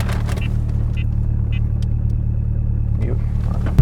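Steady idle rumble of a Corvette engine heard from inside the cabin, a constant low hum with a few faint clicks and small cabin noises over it.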